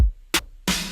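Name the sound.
trap beat drums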